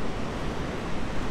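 Rushing water from a cold mountain waterfall on the Kedarnath trek, a steady, dense broadband roar that fills the whole clip with no talk over it.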